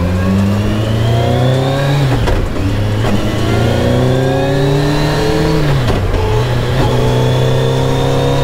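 A Campagna T-Rex three-wheeler's engine revs hard and climbs through gears, each rising whine cutting off briefly at a shift near two, three and six seconds before pulling up again, loud and close with no voices.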